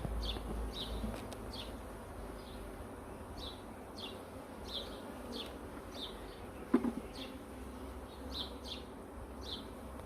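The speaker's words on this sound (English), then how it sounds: "so there's a number of bees left in here. They're really calm now." A honeybee swarm being collected and rehomed into a beehive, with bees now calm: a low steady insect hum with repeated short buzzes of individual bees passing close, and a brief knock partway through.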